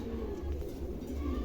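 Exhibition homer pigeons coo softly in a loft, low murmuring calls under a continuous background hum.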